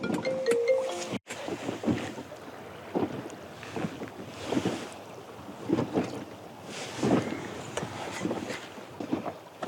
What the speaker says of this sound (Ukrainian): сильний такий вітер